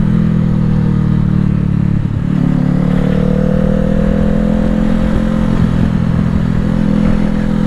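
A 2020 Honda CBR500R motorcycle engine drones loud and close, its pitch climbing slightly as it accelerates with a steady, continuous roar.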